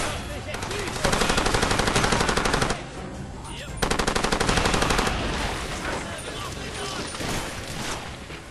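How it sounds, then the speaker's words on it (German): Automatic gunfire in the shooter game Far Cry 2, two long loud bursts of rapid rattling shots separated by a short pause, with a player's voice talking over and after the firing. "Irgendjemand schießt doch."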